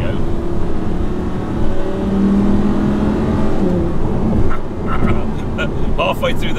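An Audi R8 V10 rear-wheel-drive engine pulls hard under acceleration, heard from inside the car as a loud, steady drone whose pitch climbs gradually through the rev range.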